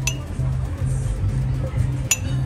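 Glasses clink together during a toast among a small group, one bright ring near the start and another sharper clink near the end, heard over steady background talk and low room noise.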